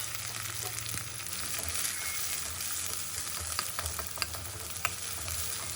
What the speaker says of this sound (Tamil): இது எல்லாத்தையும் ஒன்றா போட்டு நம்ம வதக்கி விட்டுக்கலாம்.